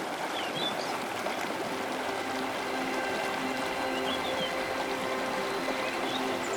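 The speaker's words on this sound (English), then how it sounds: "The Plitvice lakes in Croatia are a living masterpiece of cascading waterfalls." Cascading waterfalls at Plitvice Lakes in Croatia give off a constant, even rush of falling water, a dense unbroken roar with no voices.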